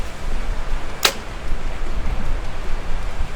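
An arrow shot on an outdoor 3D archery course strikes the dirt with a single sharp, brief impact, standing out clearly over steady low ambient noise.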